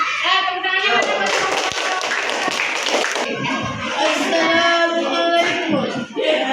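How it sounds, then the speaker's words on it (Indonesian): Audience clapping hands at a school coaching and academic supervision session, a steady dense patter of applause lasting throughout, with voices and crowd noise mixed in. "Tepuk tangannya mana?"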